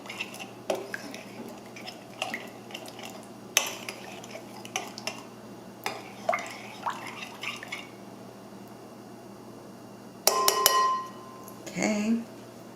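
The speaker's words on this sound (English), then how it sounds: "Okay, I'm just going to stir this in right now." A spoon stirring honey into a beef jerky marinade in a bowl, with intermittent clinks and scrapes of metal against the dish, irregular and close, quiet between strokes.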